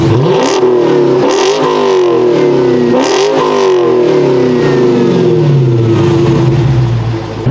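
An SRT Dodge Challenger V8 revs loudly up close in three quick rising bursts, then settles into a sustained deep, rumbling drone, with no talking.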